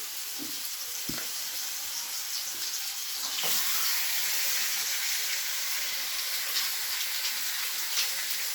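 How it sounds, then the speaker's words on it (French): Osso buco meat searing in a hot pan, a steady close sizzle and hiss running throughout with a few faint clicks near the start. "Donc je le fais saisir."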